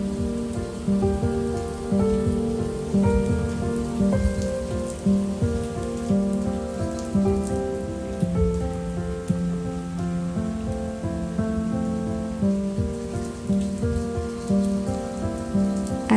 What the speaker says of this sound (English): As I watched the rain pour, my mind felt surprisingly calm.